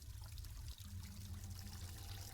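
Warm water runs from a tap in The Dream Machine video game, a continuous rushing pour with a low rumble that stays steady and close.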